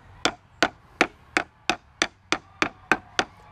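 A hammer taps wooden frames down into a 38-frame jig, giving ten sharp, evenly spaced knocks of wood on wood. The taps are close and loud, with brief quiet gaps between them.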